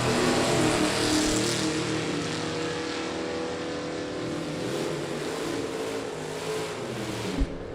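A 1955 Chevy and a 1952 Willys Aero drag racing at Byron Dragway. A loud, sustained roar of high-revving engines carries through the whole stretch and fades slightly toward the end, with no speech.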